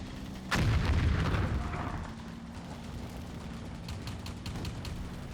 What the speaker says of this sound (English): 152 millimeter gun.